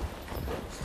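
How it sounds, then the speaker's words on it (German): Hooves of a sport horse at a German show-horse stable clop softly in a steady rhythm, faint and low under a continuous rumbling background. "Auch ihr Pferd kommt von den Kasselmanns"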